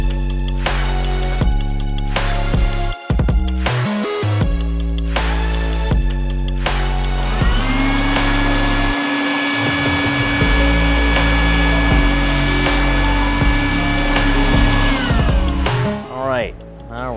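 A steady, whining vacuum motor drones for several seconds, picking up metal shards from drilling, after a stretch of clattering and knocking, then winds down near the end.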